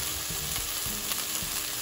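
Chicken sizzling and frying steadily in a pot for Dominican chicken locrio, releasing its juices and browning, a constant close crackle with a few soft stirring knocks and no talk.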